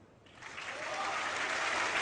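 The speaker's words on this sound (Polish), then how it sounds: "słychać e, brawa, to znaczy, że się zgadza" A burst of applause from a TV game show audience swells up quickly after a correct answer and keeps building, a crowd clapping loudly and steadily.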